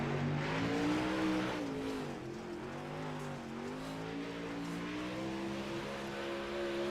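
A super late model race car, number 331, runs laps on a dirt track, its engine a loud, steady, close drone whose pitch swells and dips slightly as it works through the turns.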